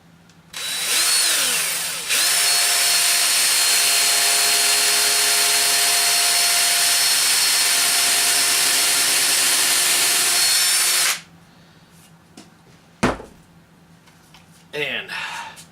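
A power drill bores screw holes into wood while mounting a turkey wing to a War Bird Indian face carving, running loud and steady for about nine seconds with a brief lower whir before it, followed by light handling clicks.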